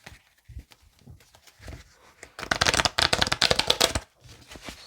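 Oracle cards are handled and shuffled by hand, soft scattered taps at first, then a dense burst of rapid riffling and flicking in the middle, settling to a few light touches at the end.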